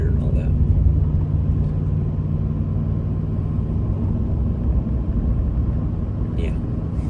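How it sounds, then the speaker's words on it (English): An old truck engine runs with a rough, uneven sputter, a loud low rumble holding steady close by, with brief voices near the start and end. "it's sputtering like it needs to be rebuilt"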